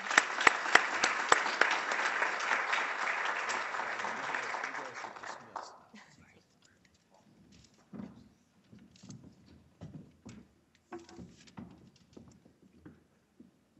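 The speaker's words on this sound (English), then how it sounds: "please join me again in a round of applause for some excellent presentations" A lecture-hall audience gives a round of applause at a business ethics award event, dense and steady for about six seconds before dying away, leaving scattered faint taps and rustles.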